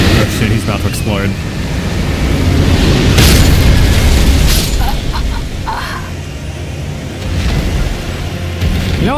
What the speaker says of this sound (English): Oh shit, he's about to explode.